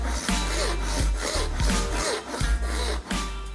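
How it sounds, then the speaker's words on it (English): A hand saw cuts dovetail tails in wood, giving close, rhythmic rasping strokes about twice a second with short pauses between pushes, and no talking. "as I'm cutting, start leveling out the saw"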